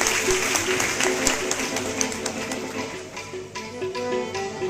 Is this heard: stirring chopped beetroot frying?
no